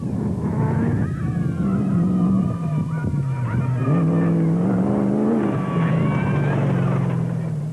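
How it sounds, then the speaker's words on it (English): Nissan Hardbody rally truck racing in the Lesotho Sun 400 off-road event, its engine droning loudly and steadily with rising and falling revs throughout, close by. "Janelle de Villiers and Francois Jordan in the third proudly South African Nissan hardbody on their way to a well-earned second overall."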